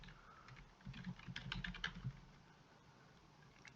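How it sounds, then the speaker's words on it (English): Server name typed on a computer keyboard, a quick burst of soft close keystrokes clustered in the middle, then quiet. "Then we'll type the name of the server,"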